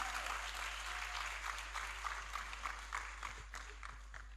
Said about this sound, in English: now clap like it's not a big deal